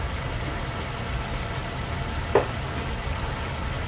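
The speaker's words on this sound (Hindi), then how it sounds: "अब एक पैन में थोड़ा सा तेल डालें और इसमें वेजिटेबल्स को सॉटे कर लें" Vegetables, carrots first, sauté lightly in a little oil in a pan, giving a steady close sizzle with one brief clatter partway through.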